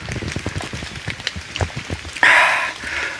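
Light drizzle patters on a mountain trail on Mount Lawu at night, with scattered close taps and a brief louder rushing burst partway through.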